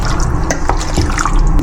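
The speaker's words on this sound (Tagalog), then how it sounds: "Bawasan ko lang konti yung tubig." Water poured off a pot while cooking Filipino food, a steady splashing liquid stream running close and fairly loud throughout, with no talking.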